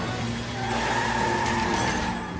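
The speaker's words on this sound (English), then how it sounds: "His truck causes even more damage as he crashes through the doors one more time." A truck smashes out through a store's doors during a robbery, making a loud, sustained rush of grinding, scraping and engine noise.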